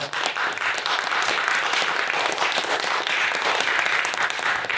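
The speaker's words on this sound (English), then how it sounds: "So, round of applause, I think, is due to them." After the speeches at a House debate on digital privacy, the audience gives a sustained round of applause, a dense, even wash of clapping held at steady loudness from start to finish.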